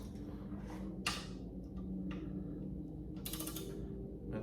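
A torque wrench tightens the rear carrier bolts on a 2024 Triumph Scrambler 400X at 11 Newton meters, giving a few sharp clicks and ratcheting mechanical ticks over low background hum.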